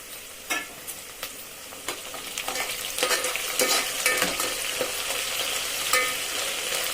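Oil sizzles steadily as garlic and curry leaves are sautéed, with occasional spoon scrapes and stirring knocks against the pan, close and fairly loud.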